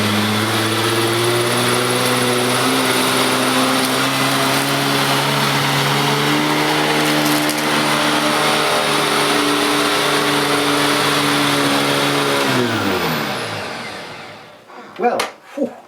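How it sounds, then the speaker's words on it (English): A Maytag Windtunnel U5450 upright vacuum cleaner roars loud and steady while picking up salt, a constant motor whine with a droning hum, then winds down and cuts off near the end, followed by a few faint knocks. "Turn it up now then, if you like to hear the noise of the vacuum."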